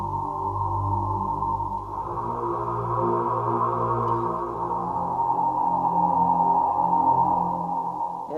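An Industrial Radio Pro-4 MIDI bass synth produces a sustained droning soundscape of layered low tones with a hazy, shifting upper wash, steady and fairly loud without any voices.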